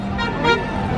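Small cars pass by at Magic Kingdom in Disney World, a steady close motor rumble with a brief swell in the middle, mixed with faint background noise.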